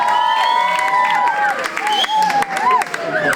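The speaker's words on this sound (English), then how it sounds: "Round of applause for Kathy Badstar" Applause at an award presentation ceremony, a crowd clapping steadily for recipients, with cheering and voices calling out over the clapping throughout.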